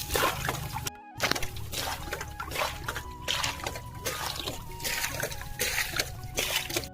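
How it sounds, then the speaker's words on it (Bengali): Water sloshing and splattering in a flooded paddy field as it is flung out by hand to catch small fish, with repeated splashes and trickles at close range over a low background hum. "জল আছে সেইটা পুরো ছিটে দিতে হবে"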